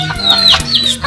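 Chickens clucking close by in a short burst, with a higher chirping call over low steady background noise.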